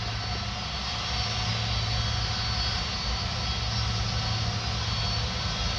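Airbus A330 engines at Paris Orly Airport, a steady, heavy roar with a deep low rumble holding constant throughout, heard at moderate distance with no voices.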